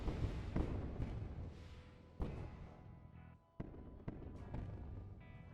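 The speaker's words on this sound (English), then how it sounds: "Hear my rockets hitting." Rockets striking targets in the space combat game Wayward Terran Frontier: Zero Falls, a string of muffled booming impacts and rumbling blasts at varying distance, several sharp hits standing out over a continuous low roar.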